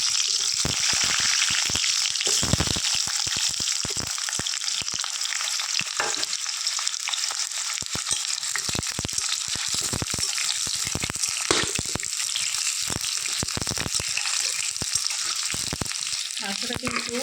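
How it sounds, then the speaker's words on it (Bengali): Potatoes fry in hot oil in a wok while chicken kosha is prepared: a steady, loud, close sizzle runs throughout, punctuated by sharp scraping clatters from stirring. "এখন আলুগুলো ভেজে"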